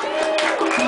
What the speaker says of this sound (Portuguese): Uma salva de palmas aí pro professor Salgueiro.